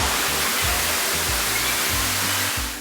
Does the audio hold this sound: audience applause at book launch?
no